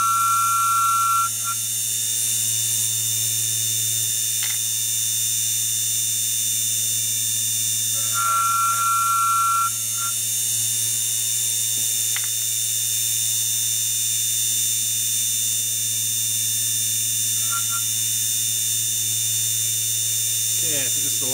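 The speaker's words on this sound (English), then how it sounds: "This electric trimmer is from Billon." Billon Rapid electric case trimmer for reloading ammunition running steadily: a continuous high-pitched motor whine and hum, close and constant throughout, with a few brief changes in tone as cases are trimmed.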